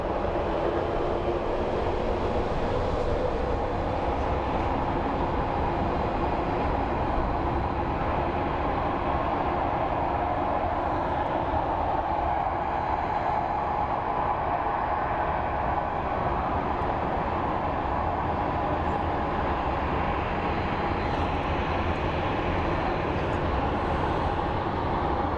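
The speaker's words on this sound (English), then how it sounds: "We have a little pushback here." An airliner being pushed back at Phoenix Sky Harbor airport: a steady, broad, low roar of idling jet engines holds at an even level throughout, with no voices.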